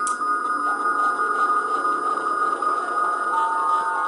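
A steady synthesizer drone with bright sustained tones and faint repeating digital-delay echoes, clock-synced to a sequencer, shimmering through it, continuous and moderately loud with no voices.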